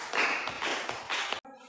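Classmates clap in a classroom, several loud bursts of close hand clapping in an uneven rhythm that stops abruptly.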